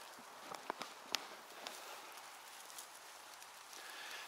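Light rain patters softly on leaves and forest ground during mushroom picking on a rainy Monday, a faint continuous hiss broken by a few sharper drips and rustles nearby.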